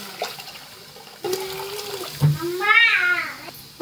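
Water is poured into a pan of simmering urad dal (split black gram) curry, a short gurgling pour that rises and fades, with a brief clatter and quiet surrounding kitchen sounds.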